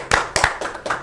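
A few sharp, close handclaps from a small audience, about four or five quick, uneven claps over a second, with no talk.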